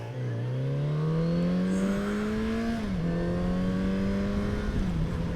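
A 2019 Kawasaki Z900RS Cafe motorcycle pulls away, its engine note rising steadily through a gear with a brief dip at a shift, close and continuous with no talk.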